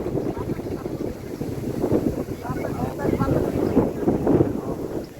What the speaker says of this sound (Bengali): এ মামা কি বাতাস দেখছো অনেক বাতাস